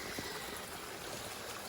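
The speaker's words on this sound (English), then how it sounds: "And it makes this nice little stream" Small stream of water trickling out from an old rock wall dam in the woods, a soft, steady, faint gurgle with no voices.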